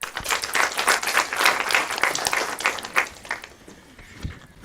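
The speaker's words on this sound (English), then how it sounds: "Round of applause," Brief scattered clapping from a small audience at a transformation summit, welcoming a Telkom SA speaker; a few hands patter unevenly near the microphone before trailing off.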